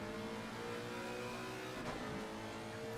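Race cars, a McLaren and a Lexus, on the straight at Indianapolis in a sim racing game, engines droning steadily at high revs with a shifting pitch as one car closes on the other.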